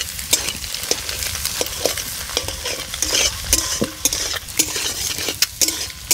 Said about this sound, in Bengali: লাড়াচাড়া করে ভেজে নিচ্ছি।